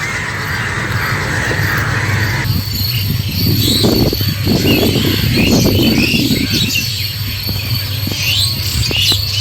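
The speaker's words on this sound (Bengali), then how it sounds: "ঝিঝি পোকার ডাক," Crickets chirp in the evening at an island spot, a dense continuous insect drone loud and steady throughout, with faint bird calls and a low background rumble.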